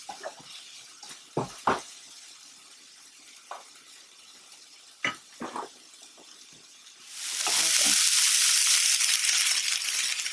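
Onions and garlic hit a hot pan for stir frying: scattered utensil clicks and taps, then a loud, steady sizzling hiss rising in the last few seconds.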